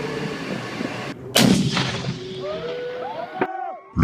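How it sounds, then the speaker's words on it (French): A 90 mm gun fires a shell in combat, one loud, sharp blast followed by echoing rumble and a later second sharp crack, with a faint whistling sound trailing off. "met fin à l'affrontement en tirant un obus de 90 mm, réduisant au silence les positions adverses"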